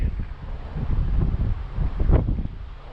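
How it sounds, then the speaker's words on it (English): Gusting wind buffets the microphone outdoors at an RC plane flying field, a loud rumbling low roar that swells and dips irregularly, peaking in a strong gust toward the end. "the wind is gusting up to about 19 miles an hour"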